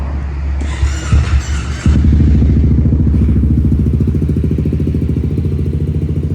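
A stock-engine 2024 Honda Forza 350 scooter with an Akrapovic exhaust sputters and squeals briefly, then settles into a loud, steady idle close by with a rapid putter.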